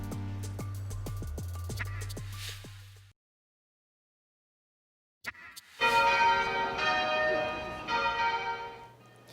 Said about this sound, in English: The bells at Cape Town's St. George's Cathedral rang for 10 minutes today to honor Archbishop Desmond Tutu.